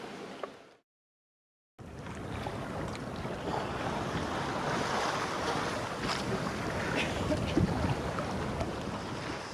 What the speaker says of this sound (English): we're probably going to stop in the marina for a night, mainly because it's pretty windy